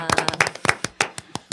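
Scattered hand clapping from a small group in a studio talk-show setting, a dozen or so sharp claps in an irregular burst alongside speech.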